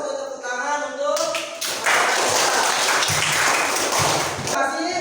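A class claps hands together, a dense, loud burst of many hands that starts after a short lead-in and holds steady for several seconds.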